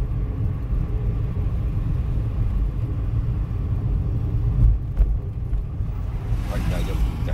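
A Keihan bus approaching on a road, heard as a steady low engine rumble and road noise with wind buffeting, rising slightly as it nears the camera.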